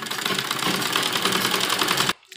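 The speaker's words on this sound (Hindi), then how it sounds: "और डबल सिलाई हम लगाएंगे इसके ऊपर" A sewing machine runs continuously as it double-stitches a baby dress for a 2–3-year-old, a rapid even mechanical chatter that stops abruptly near the end.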